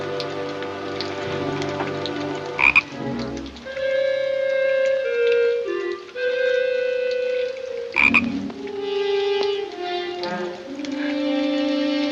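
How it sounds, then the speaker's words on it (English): Frogs croak in a rainy outdoor setting from a 1939 film, a layered chorus of steady, sustained calls under rain, loud and close, broken by a couple of sharp splashing bursts, with no talk. "Don't tell me you're scared of frogs."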